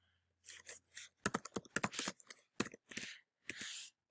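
Short bursts of typing on a computer keyboard, clicking keys in quick uneven clusters with brief pauses between, close and clear with no talking.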